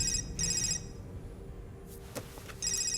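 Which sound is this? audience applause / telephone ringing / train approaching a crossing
telephone ringing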